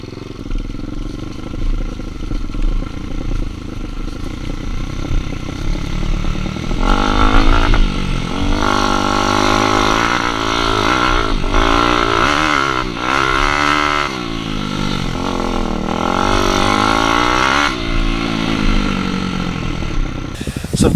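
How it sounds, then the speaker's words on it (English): A Daytona 190 pit bike engine revs and drops repeatedly as it rides laps around a slippery track, loud and close throughout, rising and falling in pitch with throttle changes, with no voices. "So I've done my first few laps around the track on the bike"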